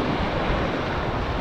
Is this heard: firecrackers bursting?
no